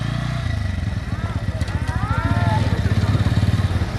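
A Bajaj Pulsar NS125 motorcycle engine runs steadily at close range, its rhythmic throbbing idle continuing throughout while voices chatter over it.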